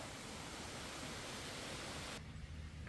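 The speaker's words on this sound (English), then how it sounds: "You hear the creek in the background." Steady broadband rush of a roadside creek beside the Anderson Creek pathway near Anderson Bridge, continuous and fairly close, with the brighter upper hiss dropping away near the end while the low flow carries on.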